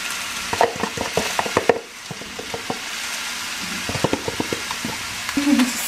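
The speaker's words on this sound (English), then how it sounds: "The cabbage, you hear that sizzle" Shredded cabbage for bubble and squeak sizzles in a frying pan with mashed vegetables, under a steady hiss broken by repeated clattering scrapes as it is stirred.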